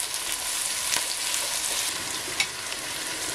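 Peppers sizzling steadily as they fry in a pan and get stirred, a close, continuous crackle with a few small clinks of the utensil.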